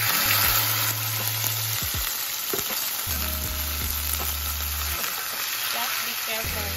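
Beef pieces dropped into hot olive oil sizzle loudly over high heat, a steady dense crackle with low clatters and a few stirring knocks, no voices over it.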